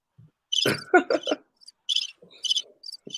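A cricket-chirping sound effect plays in short bursts of high, rapid trills with brief gaps between, fairly faint, in a sports talk show setting.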